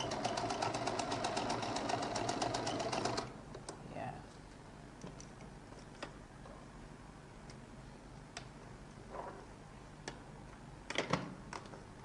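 A sewing machine stitches a seam on a lady's jacket in a fast, even mechanical rattle for about three seconds, then stops, leaving scattered soft clicks and handling noises as fabric is adjusted.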